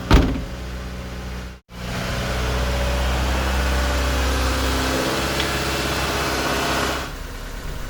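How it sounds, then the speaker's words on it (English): A 1987 Honda CRX DX's 4-cylinder, 12-valve engine idles steadily after a brief start, a smooth low hum holding constant with a short break near the beginning. "So this Honda engine is a 4-cylinder, 12-valve engine."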